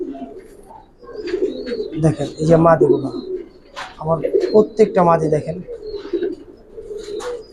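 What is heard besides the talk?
Giribaz pigeons cooing in a loft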